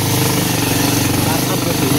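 A motorcycle engine pulls hard up a steep village road, a loud, steady, labouring drone throughout, with a voice close by over it.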